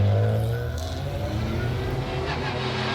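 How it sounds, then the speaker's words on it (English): Race cars circling the Nürburgring before a rolling start, a continuous layered engine roar with overlapping tones, fairly loud and close throughout. "Cars coming round for the rolling start at 60 minutes"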